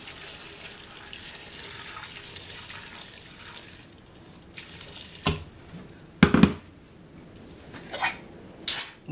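Tap water runs steadily into a soup pot for a vegetarian borscht with shredded cabbage, then stops, followed by a few clanks of pot and utensil.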